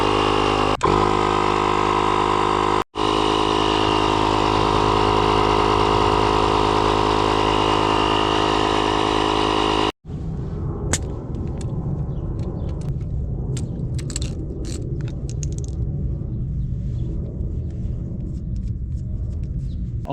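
A JFEGWO 6000A jump starter's built-in air compressor runs on a car tire, a loud, steady buzzing motor drone for about ten seconds with one brief dropout, then cutting off to quieter background rumble and clicks.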